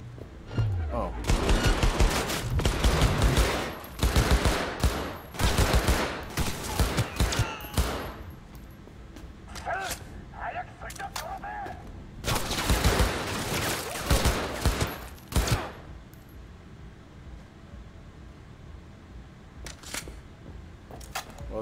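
Weapon fire in Cyberpunk 2077: loud, rapid bursts of shots crowd the first several seconds, then return in shorter volleys separated by quieter stretches with faint game sounds.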